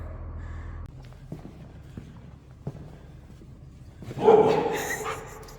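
A freshly groomed pet dog gives a short, fairly loud bark or yip near the end, after quiet footsteps and faint taps indoors.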